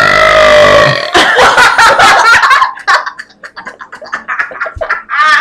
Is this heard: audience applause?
no